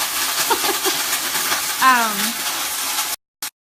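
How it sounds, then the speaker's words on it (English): Water poured into a very hot pan of green beans sizzles and hisses loudly and steadily, with a brief voice partway through before the sound cuts off abruptly. "I just added in water and it was really hot, so it got really loud for a second."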